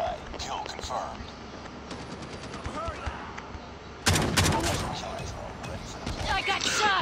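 Video game gunfire in a multiplayer shooter with UAV recon and operator skills: scattered shots early, then a loud, dense burst of rapid fire that keeps going, heard up close.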